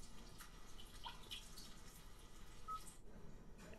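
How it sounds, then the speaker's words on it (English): Rainy-day ambience from the sound system of a 2021 Kia Telluride Nightfall Edition: a soft, steady patter of rain with scattered light drips, continuous and quiet with no talking. "Rainy day."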